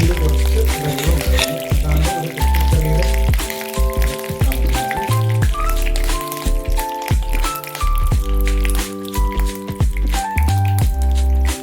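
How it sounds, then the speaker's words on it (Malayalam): Hot oil spluttering and popping while mustard seeds are tempered, the water in the pan setting off loud, close, irregular crackles and pops in rapid succession without talk. "വെള്ളം ഉള്ളതുകൊണ്ട് അത് പൊട്ടിത്തെറിക്കുന്നുണ്ട്"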